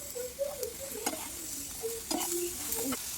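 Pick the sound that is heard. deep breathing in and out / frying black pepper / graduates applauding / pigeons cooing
frying black pepper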